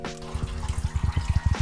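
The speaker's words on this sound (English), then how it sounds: "we're gonna take a third of this, our wort, from our tap here, and we're gonna pour that over the top of our grain" Wort for an imperial stout pours from a mash tun tap in a rapid, close, gurgling trickle with a rhythmic splashing pulse and no talk.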